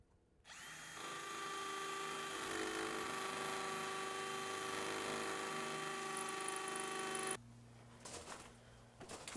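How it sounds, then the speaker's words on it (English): A power drill bores into a wall to take a wall plug, one steady loud whine running about seven seconds before cutting off, followed by quieter handling clatter. "let's drill in for a raw plug"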